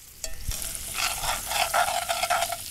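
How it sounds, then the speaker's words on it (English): Ingredients being stirred into a pot over a campfire: steady scraping and clinking of a utensil against the pot over a bed of sizzling, bubbling cooking sound, close and fairly loud with no talking. "Stir it in."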